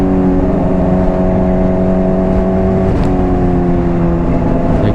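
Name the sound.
Honda CBR600RR motorcycle cruising in sixth gear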